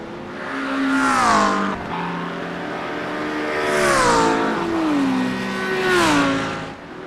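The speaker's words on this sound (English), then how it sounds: "That sound is why I drive the Audi." An Audi race car engine in a racing video game, at Monza, revving repeatedly in three loud surges, each pitch climbing and then dropping as the gears shift.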